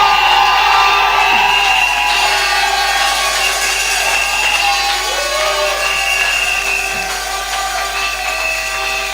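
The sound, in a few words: congregation shouting cries of joy and acclamation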